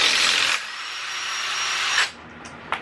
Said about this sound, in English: And for anyone that needs to know, this is an Audi rattle gun.